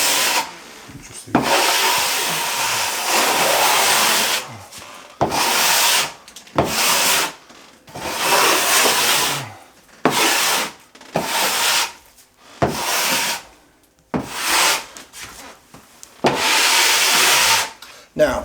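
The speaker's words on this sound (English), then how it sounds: "I take the back of my trowel and I'm just scraping and making those lines disappear" Close, repeated raspy strokes of the back of a plaster trowel scraping across setting wet plaster to smooth away lines, each pass a few seconds long with brief pauses between them.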